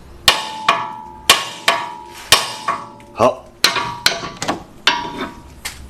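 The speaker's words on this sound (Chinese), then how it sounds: "现在我们用锤子到这个球头的周边给敲击一下" Hammer blows striking around the ball joint of a car's lower control arm during suspension repair, about a dozen sharp metallic whacks in an irregular rhythm, close and loud, with a brief word spoken.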